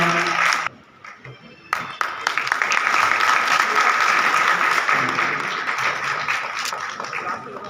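Audience at a school ceremony applauding, a short burst of clapping, then a brief pause and a louder, sustained round of many hands that slowly fades, with a voice over the opening.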